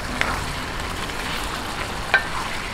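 Chicken with broken chili peppers is stirred in a pan, a soft continuous sizzle under occasional light scrapes and taps of a utensil against the pan.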